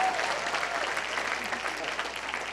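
Steady applause from a live audience in a hall, filling the whole stretch at an even, fairly loud level without letting up.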